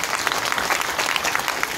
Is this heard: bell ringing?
no